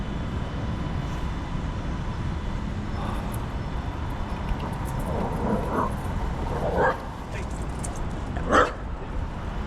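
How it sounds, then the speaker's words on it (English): Dogs bark on a street in Brookline: a few sharp, moderately distant barks stand out late over a steady outdoor background hum. "the dogs don't like me for some reason"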